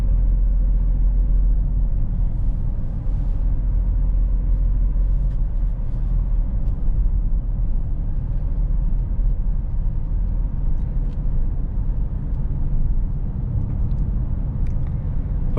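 A 2018 Alfa Romeo Stelvio Quadrifoglio cruising in its normal drive setting, with a low, steady engine and road rumble heard from inside the cabin, continuous and even, without talk.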